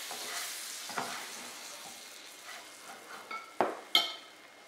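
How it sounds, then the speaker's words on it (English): Butter sizzles in a frying pan with a soft, steady crackle up close. A few sharp clicks and taps of a utensil against the pan break through near the end. "And I'll throw a little bit more butter on."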